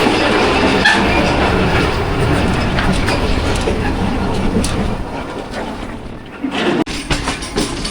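A local train on the Lahore to Karachi run in Pakistan rumbles loudly and continuously from inside a carriage, wheels clattering in a steady rhythm before the noise eases slightly near the end, with faint voices in the background.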